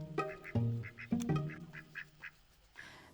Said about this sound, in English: Fern is an Indian runner duck.